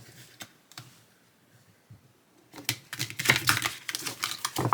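A few soft tarot card flicks, then a rapid fluttering burst of tarot cards riffle-shuffled sideways up close, crisp and clattering.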